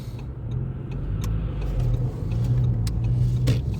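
A car rolls along a road on a Sunday drive to the car wash in Poland, its steady low engine and tyre rumble holding close and even throughout, with no voices.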